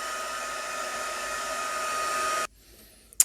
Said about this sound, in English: And I'm just going to hold this with a pair of tweezers and heat it with my heat tool.